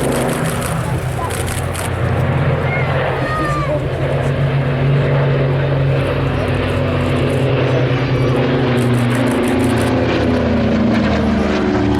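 World War II bomber aircraft pass over an RAF Cosford air show in a continuous loud propeller-engine drone. Crowd noise and announcer-style speech are mixed into the steady roar.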